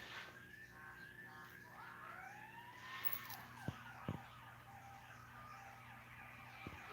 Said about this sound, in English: Y'all hear the ambulance?